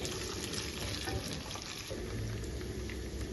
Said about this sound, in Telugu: ములక్కాయ ముక్కలు వేసేసాము. ఇది కొద్దిగా ఫ్రై అవ్వాలండి ములక్కాయ ముక్కలు.